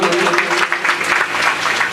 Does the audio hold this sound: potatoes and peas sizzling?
no